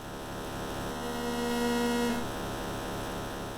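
Synthesized car engine drone from an Atari 5200 racing game, a steady buzzy electronic hum with pulsing low tones that swells louder through the middle then settles back.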